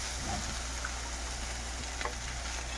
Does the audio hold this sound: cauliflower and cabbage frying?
yes